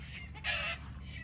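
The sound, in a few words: chickens fighting in the background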